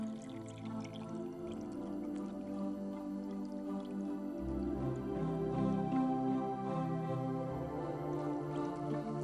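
Seawater sample of at least two litres from gas platform monitoring being filtered through a glass-fibre filter, with steady dripping and soft liquid trickling throughout.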